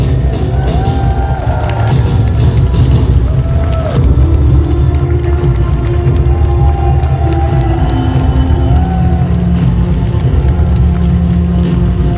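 Convention crowd at a Terminator fan event in France cheering and whooping for actor Robert Patrick, a loud, continuous roar of shouts and applause with scattered whistles filling the hall.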